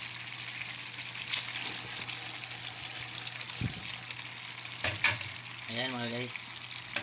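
A pot of soup with alugbati leaves sits at a steady boil, giving a constant bubbling sizzle with a few stirring clunks. A voice speaks briefly over it.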